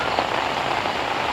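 Steady drizzling rain patters on surfaces at a cold night campsite, a dense, even hiss with no gaps, close and fairly loud throughout with no voices.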